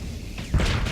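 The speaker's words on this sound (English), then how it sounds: "Boom! Got you with a missile." A missile explosion strikes a ship in the space combat game Starsector: a brief, loud burst with a heavy low thud and a bright crackling spread that fills the second, standing alone without talk.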